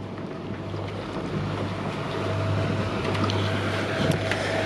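Sailboat under full mainsail and genoa heading toward Marseille at sunrise, with steady wind noise and water rushing along the hull, a constant low hum running underneath throughout.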